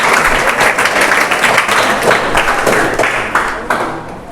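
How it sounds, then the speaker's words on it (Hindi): Loud, close applause for a student receiving a prize at a school monthly test result ceremony, a room of hands clapping rapidly and continuously, with sharper individual claps standing out. "ताली बजाओ आकृति के लिए।"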